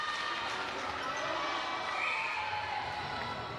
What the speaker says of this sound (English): You can hear the crowd getting into it now, calling for this Wasp team to step it up another gear.